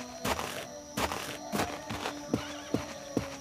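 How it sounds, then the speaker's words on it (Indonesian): A buffalo moves close by in an Indonesian horror game, giving heavy hoof-like thuds in an irregular plodding rhythm, about eight steps over a few seconds, loud and near. "Itu ada kerbau."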